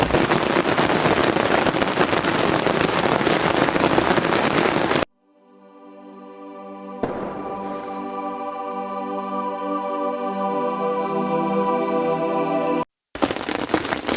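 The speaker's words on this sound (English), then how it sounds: "Rain is actually blowing through the tarp. The weather is wild." Torrential rain and gusting wind lash a camping tarp in woodland, a loud dense roar that cuts out abruptly, then returns after a stretch of steady tonal drone.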